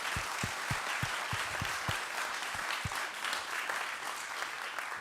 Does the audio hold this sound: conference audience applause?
yes